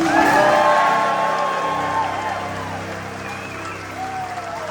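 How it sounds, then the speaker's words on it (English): Applause and cheering from passengers aboard the Sky Princess cruise ship during Captain's Champagne Night, a loud crowd that slowly fades, with whoops and a voice rising over the clapping. "please give a huge round of applause to Sky Princess team"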